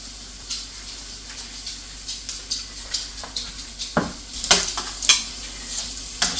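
Shrimp sizzle in a frying pan, a soft steady crackle broken by louder scraping and stirring clatters of a utensil against the pan, heard up close with no talking.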